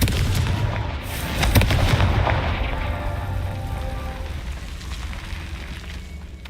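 Confringo blasting spell in the Hogwarts Legacy video game, heavy booming explosive bursts with rumbling low end and crackling debris, loud and dense throughout.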